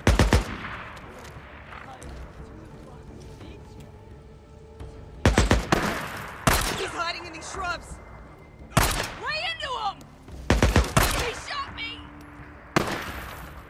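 Gunfire in the video game Days Gone, several sharp loud shots and short bursts spread irregularly across the scene, with a voice speaking between them.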